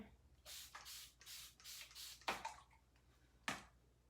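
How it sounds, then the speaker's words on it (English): A spray bottle pumps water onto fabric in quick bursts, about eight hissing sprays, close and fairly loud, with short pauses between them. "You see how much water I'm using. I keep spraying."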